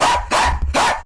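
A dog barks three times in quick succession, loud and close, each bark short and sharp with brief gaps between.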